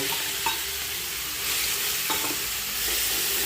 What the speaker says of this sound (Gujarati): મસાલો થોડી વાર સાંતળવા દેવાનો